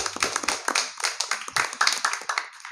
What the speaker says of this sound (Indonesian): Sekali lagi beri tepuk tangan untuk Kak Eka dan Kak Syawal dong.